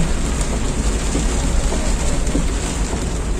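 Heavy downpour over the streets of Makassar city, a dense steady hiss of rain pounding surfaces up close with low rumbling underneath and no one talking.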